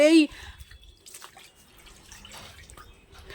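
Water drips in a flooded bathroom, heard as faint, irregular drops and trickles after a brief tonal sound at the start.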